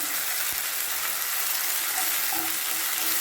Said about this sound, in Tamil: பச்சை வடை அடிக்காத இருக்கிறதுக்கோசம் இஞ்சி பூண்டு பேஸ்ட்டையும் வெங்காயத்து கூட நல்லா வதக்கணும்.